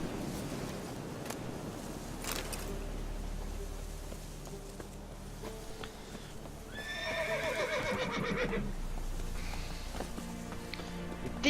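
A horse in The Witcher 3 neighs in a loud whinny midway through, with clip-clopping hooves and rain pattering steadily on surfaces across the whole scene.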